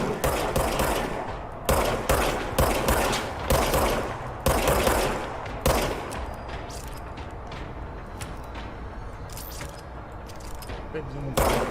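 A pistol fires repeatedly in the video game Control, sharp close shots spaced about every second, then the shooting thins out into quieter game sounds while a voice talks underneath.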